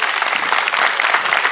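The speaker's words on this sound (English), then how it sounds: "Big round of applause for Lou Rinaldi and Deborah" An audience at a Parkinson's fundraising event in Cobourg gives a round of applause, a brief, dense burst of clapping heard on its own.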